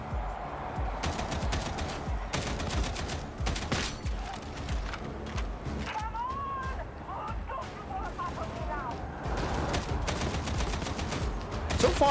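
Rapid sustained gunfire in Warhammer 40K: Boltgun, dense bursts of loud close shots with mechanical clanks and creaks between volleys, someone talking over part of it.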